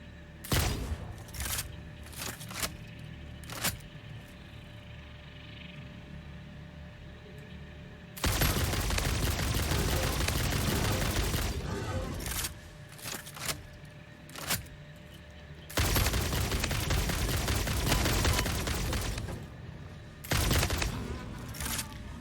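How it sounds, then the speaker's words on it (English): Gunfire in the video game Satisfactory strikes a target, coming as dense bursts of rapid shots in long loud stretches, separated by quieter gaps broken by sharp isolated impacts. "It may not be easy to spot, but those bullets are hitting something."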